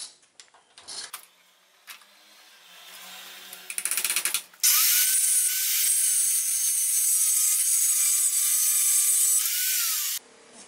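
Cutting 20x20 mm steel angle iron about 3 to 4 mm thick with a power tool: a few brief clanks and a short buzzing start, then a loud, steady high-pitched grinding whine held for several seconds before it stops abruptly.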